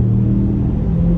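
A Lincoln Corsair's 2.3-liter turbocharged four-cylinder drones under full throttle, a loud, steady low engine rumble heard from the cabin for a brief moment.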